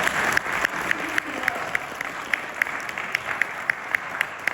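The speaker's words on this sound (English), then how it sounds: "give them a round of applause" An audience at a mental health conference applauds steadily, a dense wash of many hands with a few sharper claps standing out near the front.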